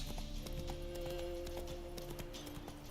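Steady clip-clopping of the horse Roach's hooves in the Witcher 3 video game, a continuous rhythmic trot under a constant ambient game bed with a low hum and no voices.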